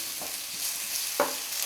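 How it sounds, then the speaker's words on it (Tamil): Onions, green chili, cumin and ginger garlic paste sauté in a hot pan, giving a steady close sizzle with a few soft stirring scrapes. "இதெல்லாம் சேர்த்து நல்லா வதக்கிடலாம்"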